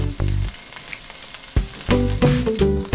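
Snap peas, regular peas and green onion frying in a pan, a steady close sizzle with bursts of crackle and stirring throughout, no voices.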